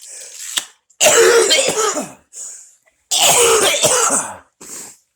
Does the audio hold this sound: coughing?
yes